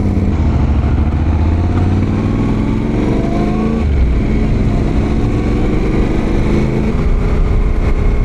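A motorcycle ridden on a road in Georgia on a cool morning: a steady engine drone rises and falls with gear changes under constant wind roar, with no talk.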